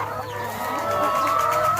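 Chickens on a mixed farm eat feed mixed with chopped banana stem and grass, clucking softly and continuously up close with a bright tonal call rising near the end.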